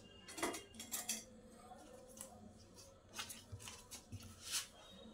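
A knife cuts folded puri dough into pieces on a hard surface, giving a series of soft, irregular taps and scrapes with short pauses between them.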